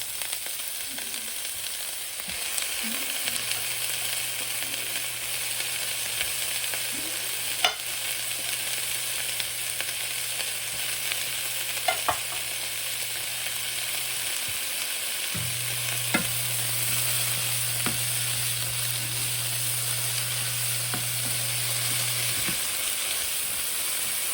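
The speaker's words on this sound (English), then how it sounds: "Get the mixed vegetables in there." Mixed vegetables stir-frying in a pan for tandoori chicken chow mein, a steady close sizzle and hiss running alone throughout, with a few sharp clinks of utensil against the pan.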